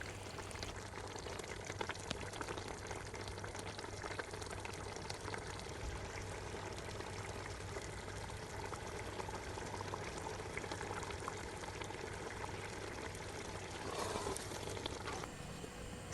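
Tomato soup with caramelized onions and water simmering in a large pot on medium to low heat, a steady soft bubbling and watery churn that continues evenly throughout, moderately quiet with no voices.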